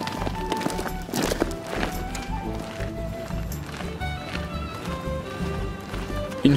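War horses arriving at a Napoleonic bivouac reenactment at Neuf-Brisach, their hooves clip-clopping in a busy, steady patter amid outdoor crowd noise and faint voices, with a brief whinny suggested.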